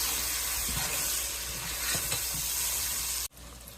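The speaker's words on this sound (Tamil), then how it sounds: "இப்போ இதெல்லாம் சேர்த்து ஒரு பெரட்டை தட்டிடலாம்." Spices and masala stirred in a hot frying pan while cooking fish biryani, giving a steady close sizzle and hiss with soft scraping and stirring knocks, ending abruptly.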